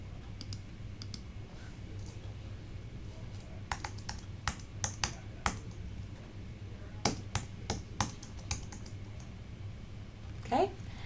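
Irregular clicks of keys being typed on a computer keyboard, sparse at first then in quick clusters, close and fairly quiet over a low hum.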